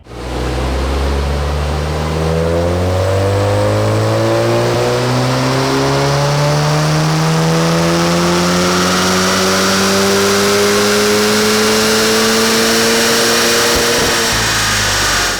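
A car engine on a chassis dyno is held at full throttle and climbs steadily through the revs, its harmonics rising for about fourteen seconds before a sudden lift-off near the end, loud and continuous with no talk.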